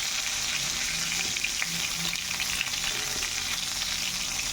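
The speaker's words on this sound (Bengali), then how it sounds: "আমি আলুগুলো আগে ভেজে নিচ্ছি।" Potatoes frying in hot oil in a home kitchen, making a steady, close crackling sizzle with a few faint low clinks, continuing evenly without speech.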